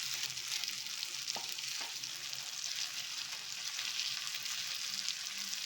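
Fish sizzles and fries steadily in a pan, a constant close hiss with a couple of faint clinks, no voices.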